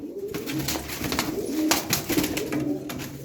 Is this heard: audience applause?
no